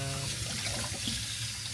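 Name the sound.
kitchen sink sprayer rinsing apples with hot water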